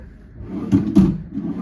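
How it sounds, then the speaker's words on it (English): A hotel room dresser drawer slides open and shut, giving two close, distinct thumps about a quarter second apart over a quiet room background. "Good sized drawers. You got 3 of these"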